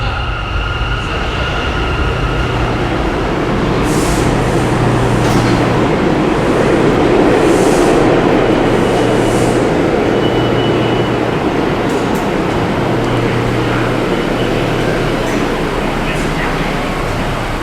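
A subway train rumbles loudly through an underground station, a dense continuous roar with faint higher squeals that holds steady for about eighteen seconds.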